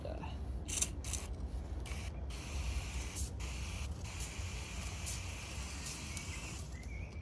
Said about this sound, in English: I'm just gonna start spraying some water on it just to clear it up a bit.